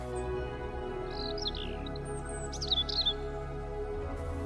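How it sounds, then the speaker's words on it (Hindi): A caged myna bird gives a few short high chirps and whistled calls, scattered through the middle of the clip and faint over a steady low background hum. "एक पिंजरे में मैना पक्षी बंद थी"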